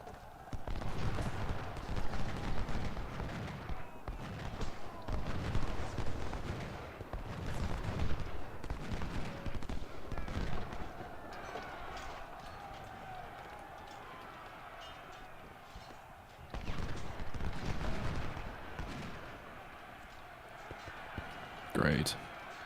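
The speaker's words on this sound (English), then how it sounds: "Yes, canister fire, just what we want, because casualties don't matter to us." Canister artillery volleys and musket fire in Ultimate General: Civil War's Second Battle of Bull Run roll on as dense, continuous battle noise with repeated booming salvos, while someone talks over the din throughout.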